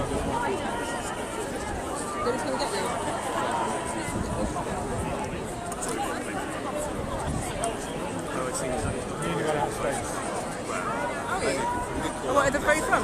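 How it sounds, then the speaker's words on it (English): A fair-sized protest crowd fills Trafalgar Square in London with steady, dense hubbub of many voices, close and continuous, with movement and scattered louder bursts throughout. "there's a fair crowd here"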